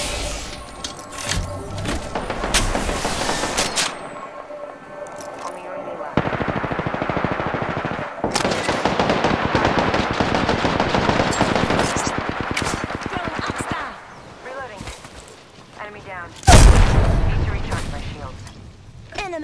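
Rapid automatic gunfire from an Apex Legends match erupts in long, dense bursts with brief pauses, loud and close, while sharper single shots and impacts land near the end and a voice speaks intermittently.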